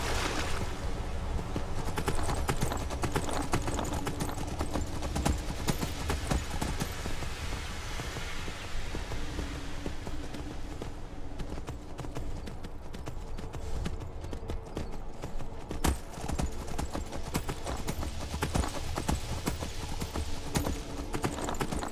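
Galloping horse in Skyrim Special Edition, a long unbroken run of rapid hoofbeats at steady loudness, close and alone.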